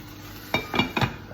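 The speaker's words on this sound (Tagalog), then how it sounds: "Kumukulo na ito par." Three soft bubbling pops rise in quick succession from a boiling pot of sinigang over a steady hiss, close by and fairly quiet.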